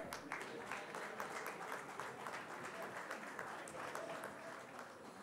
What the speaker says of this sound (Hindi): let's welcome, sir, with a huge round of applause as well